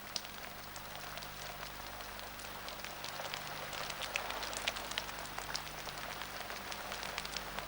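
Steady rainfall with a soft constant hiss and scattered individual drops pattering on a surface, calm and moderately quiet.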